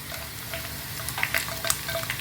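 Chopped onion and ginger fry in a pan for bun dosa, giving a steady soft sizzle with a few sharper crackles and pops near the end.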